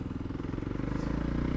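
A Voge 300 Rally motorcycle engine runs with a steady rhythmic popping throb, close and continuous over low rumble.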